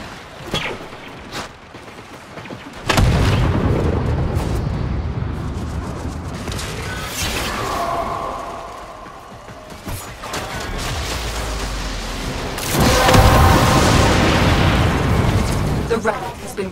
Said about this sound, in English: Before it fires the tectonic shot.